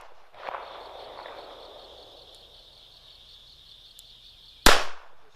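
A single sharp, loud crack from an S&W 642 snubnose revolver fired slow and deliberate, arriving late after a quiet stretch of faint background tone and a soft knock, followed by a brief decaying echo.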